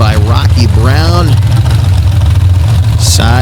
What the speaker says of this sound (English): Big block Chevrolet, 715 cubic inches.